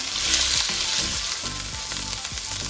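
Chicken sizzles steadily in a hot pan while being fried for fried rice, with loud continuous crackling and occasional low scraping from stirring.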